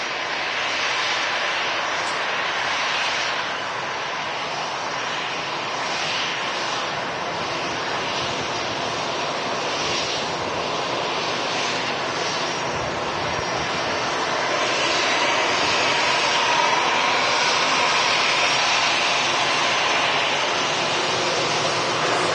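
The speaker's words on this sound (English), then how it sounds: "A380. Lovely aircraft" An Airbus A380 at Manchester Airport makes a loud, continuous broadband jet roar that holds steady and builds slightly toward the end, filling the whole stretch with no speech over it.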